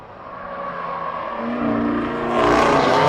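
Z01 race car powering down the front stretch at NOLA on its final lap, a steady engine roar building louder and nearer over three seconds with a brief lift before getting back on the throttle.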